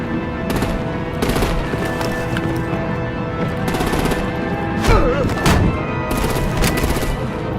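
Rapid machine-gun bursts and gunshots fill a Batman video game battle scene, dense and loud throughout with sharper single cracks standing out, no speech over the firing.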